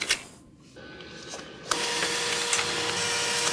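A printer whirs into action after a short quiet pause, its motor and feed mechanism running loud and steady with small clicks through the rest of the stretch.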